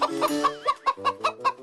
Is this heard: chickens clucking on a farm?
yes